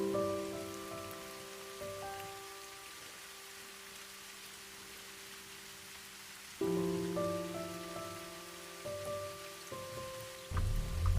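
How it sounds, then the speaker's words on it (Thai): Heavy rain drums steadily on an EV car body while driving through a downpour, a continuous hiss under low steady tonal hums, with a louder thump near the end. "ฝนก็กำลังตกต่อเนื่องไม่มีทีท่าว่าจะ อาซาลงเลยนะครับ"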